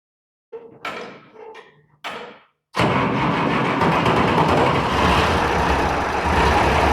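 An International 966 tractor engine cranks and fires into a loud, steady diesel idle after a few short clanks and knocks. The running engine continues close and unbroken to the end, with no voices.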